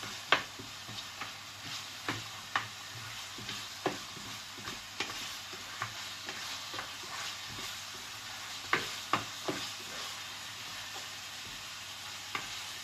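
Potatoes frying with garlic and onion for a kaldereta, a steady sizzling hiss with scattered clicks and stirring scrapes of a utensil against the pan, close and moderately loud, no voices.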